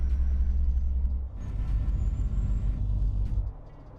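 Truck engine rumbling steadily in American Truck Simulator, a low continuous drone with a brief hiss like an air brake, then the rumble drops off near the end.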